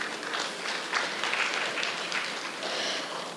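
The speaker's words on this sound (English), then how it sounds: "welcome all our panelists again with a round of applause" A short burst of audience applause welcomes panelists at an education panel discussion, soft and somewhat distant, with clapping that swells and ebbs unevenly.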